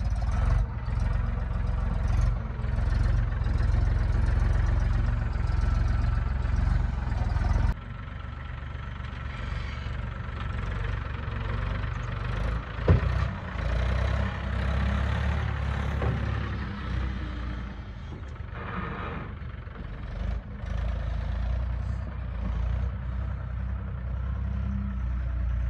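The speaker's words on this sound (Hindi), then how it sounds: "एक बार भाई साउंड चेक करो ट्रैक्टर" A New Holland 3630 turbo tractor engine runs close by, a heavy, steady diesel rumble that idles throughout with slight shifts in load.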